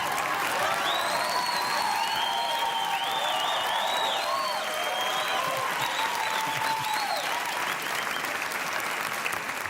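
Studio audience at a television game show clapping loudly and steadily for about ten seconds, dense sustained applause with a few audible whoops over it.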